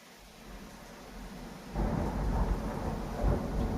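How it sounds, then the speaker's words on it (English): Low, rolling thunder rumbles in the distance and swells louder partway through, with a soft hiss of rain underneath. "Do you hear the thunder?"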